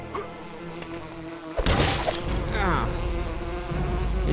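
Buzzing bee in the video game Lego The Hobbit, a droning insect hum that swells after a sudden crash-like hit, over steady game background sound.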